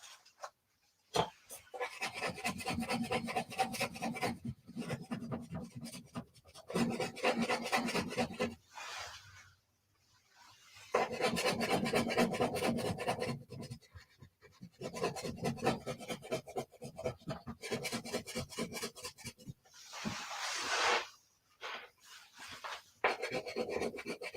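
A crayon rubs back and forth across paper in quick, scratchy strokes, close and fairly quiet, in long bursts broken by short pauses.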